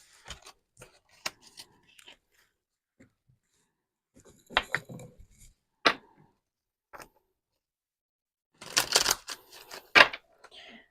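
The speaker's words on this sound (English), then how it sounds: "I just shuffle them all over the place" Irregular bursts of papery snapping and rustling, close and fairly quiet, with brief pauses between handfuls of oracle cards being mixed.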